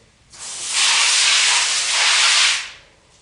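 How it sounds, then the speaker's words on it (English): A close, loud hissing spray of water from a sprayer rinses dirt off window blinds, running steadily for about two seconds, then cuts off. "take your sprayer and spray off all of the dirt"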